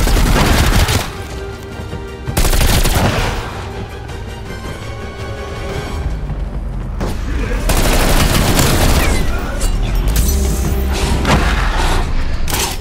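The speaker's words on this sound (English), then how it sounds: "machine gun equipped" Machine gun fire from Call of Duty: Black Ops Cold War zombies on the Firebase Z map, loud sustained bursts with heavy booms and thumps, no voices in between.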